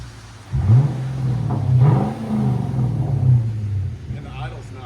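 A Lexus V8 engine runs close by, starting with a sudden rise into a steady, smooth rumble with a couple of gentle swells before dropping back to a quieter idle; voices talk over it.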